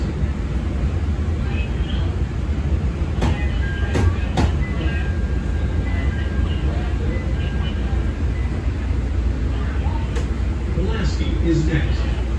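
A CTA Green Line rail car, number 5104, rolling along the tracks with a constant loud rumbling drone, a few sharp metallic clicks and squeals along the way, recorded from inside the car.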